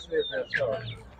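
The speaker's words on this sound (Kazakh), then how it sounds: "Мына да қызық тауық екен." Chickens cluck in short chirpy bursts at a poultry market, close and moderately loud, with people talking nearby.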